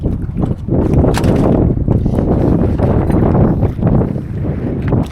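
Strong wind buffets the microphone in a continuous loud roar at an outdoor fishing spot on the water, with gusty surges and no talk.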